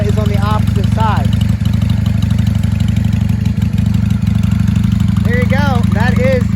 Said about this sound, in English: That is the Stage 3 jetted Honda Shadow 600, 1995. No baffles.